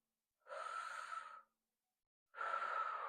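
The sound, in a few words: deep breath in, breathing into the abdomen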